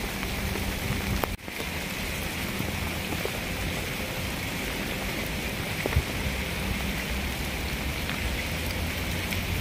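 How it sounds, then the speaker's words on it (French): Heavy rain pouring steadily outdoors on the Camino, a dense, constant hiss of drops striking surfaces close to the microphone, with one brief handling knock early on. "Là il pleut pour de vrai. C'est pas la petite pluie que j'ai eue hier. C'est de la vraie pluie."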